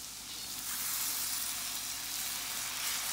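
Milk, 1.5 cups, pours into a hot cooking pan with a steady broad hissing sizzle that swells slightly and holds, close and continuous with no talking.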